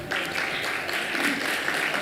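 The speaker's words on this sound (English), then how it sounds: "let us welcome with a huge round of applause this illustrious gathering of incredible women leaders from across the world" Brief burst of applause from an audience at a G-20 women's leadership gathering in Mahabalipuram, a steady wash of clapping heard from a moderate distance.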